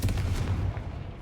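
A Confringo fire-blast spell goes off in Hogwarts Legacy, a dense booming burst with crackling impact that is loud at first and then trails off over about a second.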